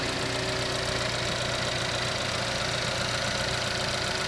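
A 2013 Chevy Captiva's 2.4 liter engine idles with a steady, even rumble and hum that holds at a constant level throughout, with no voices.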